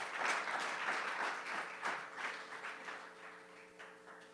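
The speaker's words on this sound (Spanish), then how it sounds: "den un aplauso" Spanish-speaking church congregation applauding during a sermon, a steady wash of clapping throughout with a few louder bursts, no talk over it.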